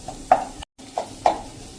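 Spice masala cooking in oil in a pan for stuffed onion curry, a soft sizzle under a few brief scraping stirs of a spoon, with a momentary dropout in the middle.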